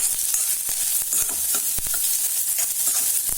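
Onion and radish stir-fried in a pan, a loud, close sizzle broken by rapid, irregular scraping and tapping of a spatula.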